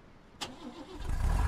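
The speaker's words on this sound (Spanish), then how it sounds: "Lo he puesto al máximo motor" A small car engine in the video game Expeditions cranks over with a short starter whir, then catches and settles into a rising, steady low idle, close and alone.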